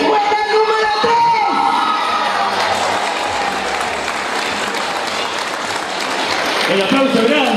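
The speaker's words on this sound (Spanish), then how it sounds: "El aplauso grande, ¿no? Pero muy grande para los ganadores." Sustained loud applause from a festival crowd for announced prize winners at the Fiesta Provincial de la Torta Frita, with scattered cheers and shouts, continuing steadily before easing slightly and rising again.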